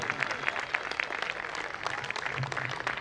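Audience applause at a live comedy poetry gathering in Faridabad, steady clapping from many hands, fairly faint and distant in a large hall.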